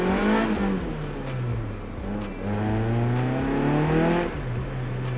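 An EM1 Honda Civic Si clone drives along, its engine humming steadily. The revs climb and drop a few times as it shifts gears, heard close from inside the car with no talk.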